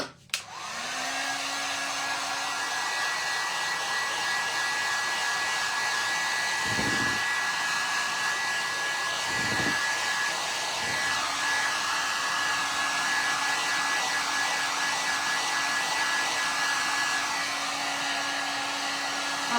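Hair dryer blowing on a decorated bottle, a continuous close whir with a steady whine, briefly interrupted twice by short pauses, then running on alone without talk.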